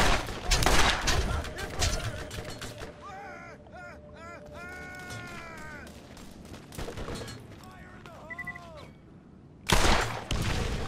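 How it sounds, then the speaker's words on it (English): Borderlands combat with bursts of gunfire and an explosive blast near the start and end, separated by a quieter stretch of game tones and warbling effects, with someone talking in between. "that was a long longbow grenade, and he missed"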